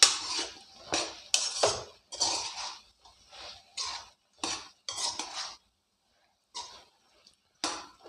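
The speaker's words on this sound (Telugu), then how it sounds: "ఇప్పుడైతే మళ్ళీ ఒకసారి కలుపుకుందామండి." A utensil scrapes and clinks against a pan while eggplant curry is stirred, a series of close, irregular scraping strokes with short pauses between them and a longer gap near the end.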